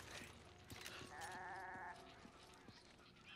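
Goat bleating from the video game Resident Evil 5, a wavering bleat in the middle of the clip over game background noise and scattered thuds.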